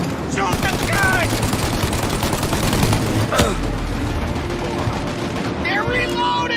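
Dense gunfire in a Mafia: Definitive Edition shootout, rapid overlapping bursts and single shots crackling continuously at loud, close range, with voices shouting over the fire.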